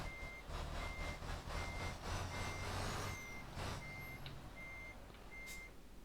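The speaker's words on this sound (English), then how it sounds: "that truck sounds very loud to me" Truck in Euro Truck Simulator 2 backing up, steady evenly spaced reversing beeps sounding over a loud low diesel engine rumble and hiss.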